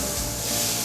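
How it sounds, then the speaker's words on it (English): Coarsely chopped zucchini, peppers and corn sizzle and hiss loudly in a hot pan on a cooking cart, a brief, dense, steady frying sound with no voices. "You hear that sizzle?"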